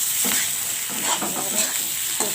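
Masala for a mourala fish jhal with turmeric, chilli powder and jaggery is sautéed and stirred, making a steady close sizzle with a few short scraping strokes over about two seconds and no talking.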